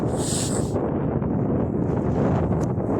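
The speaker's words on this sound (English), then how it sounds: "And it's windy as God." Strong wind blowing at Birmingham Airport, a steady loud roar buffeting the microphone throughout, with a brief hiss early on.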